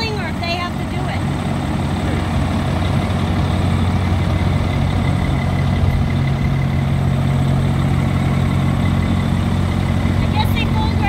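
A fire truck engine idles with a loud, steady low rumble that persists throughout, while people talk nearby.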